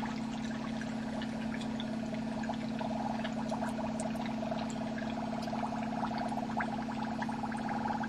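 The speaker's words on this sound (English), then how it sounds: "And the vacuum chamber is going to fill up with water." Water steadily pours and gurgles into a vacuum chamber, with faint bubbling and trickling over a constant low mechanical hum, quiet and continuous, no voices.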